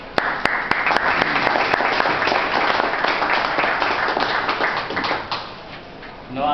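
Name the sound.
audience applause after an introduction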